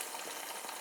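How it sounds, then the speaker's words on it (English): Eggs frying in a pan, a faint, steady hiss and crackle with no voices. "The eggs are cooking"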